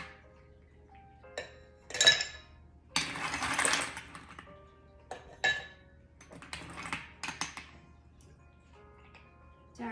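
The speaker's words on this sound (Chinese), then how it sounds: "加入冰" Ice cubes drop into a cocktail glass or shaker while mixing a Gin-Gin Mule, several bright clinks and a longer rattling tumble, close and clear against quiet.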